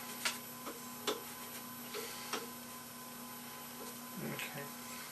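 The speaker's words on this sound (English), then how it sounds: "I'm turning the hand wheel in the direction of how the machine sews." Hand wheel being turned on a Singer 95-1 industrial sewing machine during belt replacement and re-timing, giving a few soft, spaced mechanical ticks over a steady low hum, faint and close.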